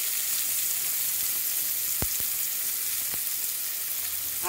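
Spice paste of ginger, turmeric, cumin and coriander hits a hot frying pan, giving a steady, bright sizzle throughout with a few sharp pops and crackles, close and fairly loud, no voices.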